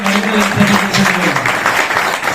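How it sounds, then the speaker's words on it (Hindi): Applause from a seminar audience in Rohtak, a loud burst of crowd clapping lasting a couple of seconds with no speech over it. "जोरदार तालियां दो"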